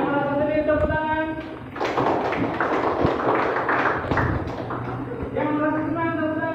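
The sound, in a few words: students clapping hands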